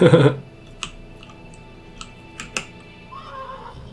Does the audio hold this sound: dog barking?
no